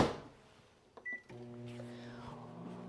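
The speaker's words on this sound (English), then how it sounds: "Goes into your microwave for 45 seconds." A microwave oven heats a veggie burger on a microwave-safe dish for 45 seconds. A door thump and a short beep are followed by a steady, low electrical hum that runs to the end.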